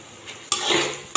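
Ginger frying in a pan with potato, green chili and onion, a quick metallic stir of a utensil against the pan followed by a short burst of sizzling.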